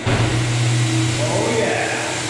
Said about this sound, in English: Let's get this buffer going.